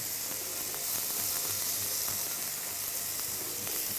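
Chicken pieces fry in a hot pan during meal prep, giving a steady, fairly quiet sizzle and hiss with small scattered pops and no voices.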